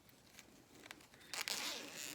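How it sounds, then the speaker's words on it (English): A zipper is pulled open during a vinyl covering job, a quiet scratchy rasp with a few light ticks before a louder, longer zip near the end, heard up close with no talking. "Please open the zipper."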